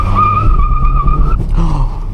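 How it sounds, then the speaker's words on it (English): A car engine labors and nearly stalls as it pulls away, giving a low uneven rumble under a loud, steady high-pitched squeal that cuts off partway through. "Oh mate, I nearly stalled."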